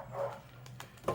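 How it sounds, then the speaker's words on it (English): Neighbour's dog barking somewhere off in the distance, one or two quick faint barks heard alone during a short quiet moment indoors. "Neighbour's dog's barking"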